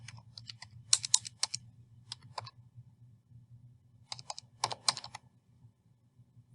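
A library card number is typed on a computer keyboard in two close bursts of quick key taps, separated by a short pause, with low hum underneath.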